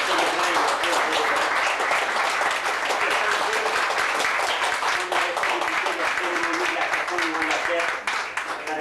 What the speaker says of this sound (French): je lui demandais une bonne main d'applaudissements